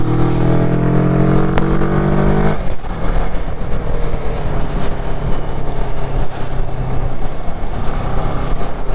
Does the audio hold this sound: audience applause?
no